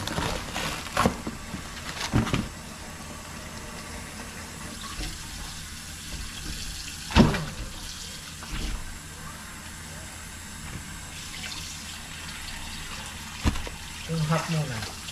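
Tap water runs into a sink to soak raw chicken, a steady low splash over about fifteen seconds with a few sharper clatters and knocks, while a person talks quietly in the background.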